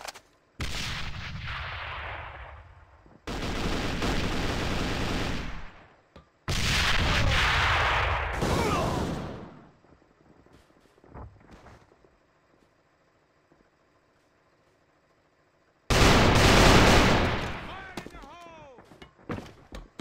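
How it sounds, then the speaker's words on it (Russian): In the shooter video game AVA, heavy explosive blasts and bursts of gunfire hit in several loud, separate volleys, each trailing off. Quieter gaps with faint clicks and movement sit between them. "Бросаю гранату!"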